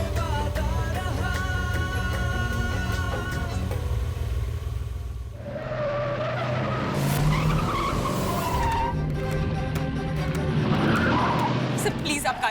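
A car skids with tires screeching loudly in a tense drama scene, long squeals rising over engine noise and a background music score, with a voice speaking over parts of it.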